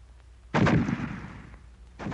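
A fragmentation grenade detonates in a WW2-era weapons training demonstration: one sharp, loud blast that rolls off into a fading rumble, with the start of another burst at the very end.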